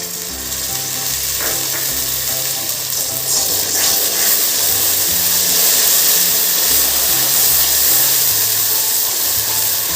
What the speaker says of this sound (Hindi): अब मैं इसमें 2 से 3 टेबलस्पून के बराबर डाल दूंगी पानी।